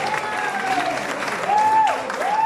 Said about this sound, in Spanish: Ahí quiero que me regalen un aplauso bien fuerte para nuestro homenajeado.